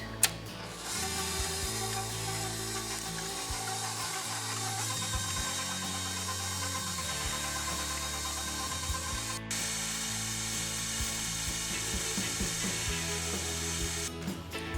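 Lemon ricotta cheesecake batter is mixed by machine with a steady mechanical whir that shifts in pitch, briefly pauses, then continues close and loud.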